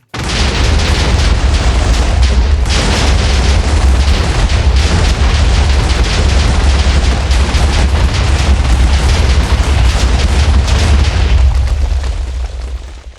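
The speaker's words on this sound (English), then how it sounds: "it makes that explosion sound. when these are interacting with each other" Loud, continuous crackling explosion noise from interacting machines in the Minecraft modpack Project Ozone 3, a dense unbroken roar that runs steadily for the whole stretch before fading at the end.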